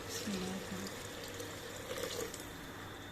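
Water pours from a glass into a cooking pot of fried beef mirchi masala, a short splashing gush that comes in bursts, fairly faint, with light kitchen background.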